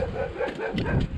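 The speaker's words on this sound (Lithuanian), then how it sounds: "Šuniukas truputį loja." A small puppy at a countryside homestead gives soft yips and short whimpering barks, faint and somewhat distant, with breezy outdoor noise around it.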